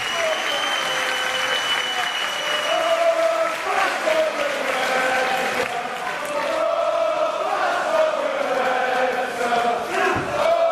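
A pro wrestling crowd in Manchester roars and chants steadily throughout a match, a loud sustained wall of cheering with a commentator's voice riding on top.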